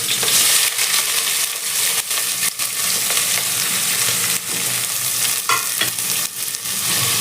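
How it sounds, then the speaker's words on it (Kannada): Slit green chillies and chopped onions fry in oil in a pot for dal khichdi, a loud continuous sizzle close up with intermittent scraping strokes from stirring. "ಹಾಗೆ ಈರುಳ್ಳಿ ಎಲ್ಲ ಚೆನ್ನಾಗಿ ಫ್ರೈ ಆಗಬೇಕು"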